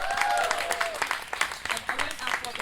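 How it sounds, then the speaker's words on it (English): An audience at a live podcast recording at Greenbelt Festival 2025 claps and cheers loudly and steadily for the whole stretch. Whoops and voices rise through the dense applause. "Give me a cheer for community!"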